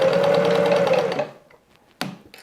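A home sewing machine runs steadily for about a second, stitching fabric for a beginner's wall organizer. It then stops, followed by quiet handling noises and a short thump.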